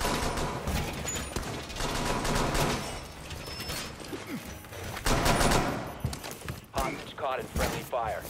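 A video game firefight sends rapid bursts of gunfire under continuous in-game voices, with rattling mechanical clicks mixed in.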